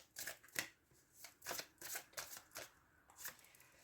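Oracle cards being shuffled by hand in a series of crisp riffling bursts, about eight quick swishes with short pauses between, close and moderately loud with no talking.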